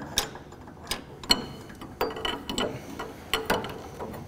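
An oil filter wrench working on a sprocket lock nut during a seal change on an HWP-120 pump, giving scattered sharp metallic clicks and ratcheting ticks at an irregular pace, close by with no talk.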